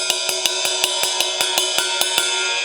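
Steady single strokes on a ride cymbal, about a dozen evenly spaced pings with a shimmering wash ringing between them, close and clear.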